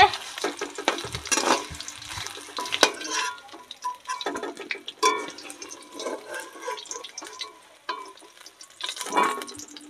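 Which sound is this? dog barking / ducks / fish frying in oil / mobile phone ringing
fish frying in oil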